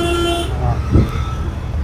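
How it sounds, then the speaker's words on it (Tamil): A learner's car sounds one brief horn beep, loud and close, then the idling engine hum and road noise carry on alone. "ஹார்ன் அடி."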